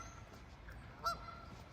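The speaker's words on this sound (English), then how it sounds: "There's some more geese over there." A single short goose honk sounds faintly over low ambient noise beside a river, with other geese nearby.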